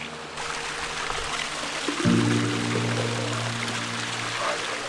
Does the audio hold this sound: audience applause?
no